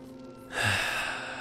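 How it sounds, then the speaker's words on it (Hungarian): A sleeping character in Oxygen Not Included breathes heavily, giving one long, breathy exhale or snore-like gasp that rises suddenly and then fades slowly, heard alone and fairly close. "Szuszognak embereink."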